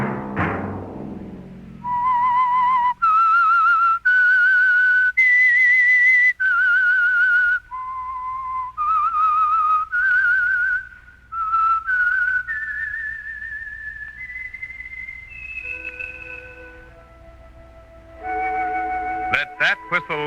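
A solo whistler carries a slow melodic tune in clear, sustained notes, rising and falling, ending with a few brief sharp sounds.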